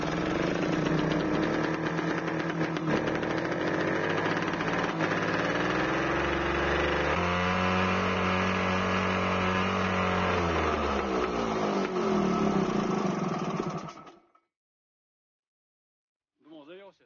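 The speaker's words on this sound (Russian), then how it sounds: "Думал, завелся, заглох." An MTZ-80 tractor's engine turns over and runs, a loud continuous mechanical clatter and drone that shifts pitch midway, then cuts out abruptly as it stalls, followed by near silence and a short faint sound.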